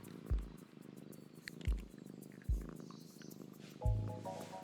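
A cat purrs steadily in the video game Dordogne, a soft close rumble, while four deep, low thumps land at roughly one-second intervals and a brief chiming tone enters near the end.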